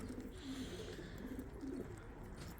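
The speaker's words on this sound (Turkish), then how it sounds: "güvercinler artık yavaş yavaş mahsulünü vermeye başlamış" Pigeons coo softly in a loft, giving repeated low throaty calls in short bursts over faint background noise.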